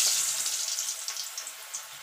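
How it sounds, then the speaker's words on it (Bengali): Potato pieces, each potato cut into eight, fry in hot oil until browned, giving a steady, close, bright sizzling crackle throughout. "লাল লাল করে ভেজে নেব"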